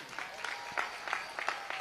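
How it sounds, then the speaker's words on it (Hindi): Thin, scattered applause from an audience at a night event of a Hindu pilgrimage march, with loose bursts of clapping rising and falling at moderate distance. "आपकी तालियों में शोर कम था"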